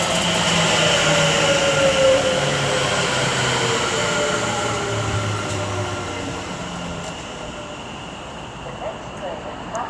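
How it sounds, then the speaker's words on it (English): A West Midlands Railway Class 730 electric passenger train pulls into a station, a loud steady rumble and rising whine with rail hiss that slowly eases as it slows, while someone talks quietly nearby. "now coming in will be the 1003 West Midlands Railway service from Wolverhampton to Walsall."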